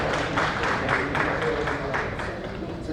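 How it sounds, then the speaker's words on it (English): Audience at a forum on sustainable menstruation gives a sustained round of applause, steady dense clapping filling the room at moderate distance with a faint voice underneath. "I would request you to give a huge round of applause for Hiteshi and all the team"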